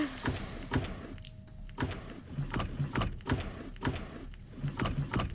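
Coin pickups in the Roblox horror game Doors: a quick run of clinking metallic chimes, about one every half second, crisp and close over a faint ambient drone.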